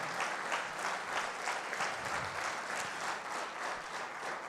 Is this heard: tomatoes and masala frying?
no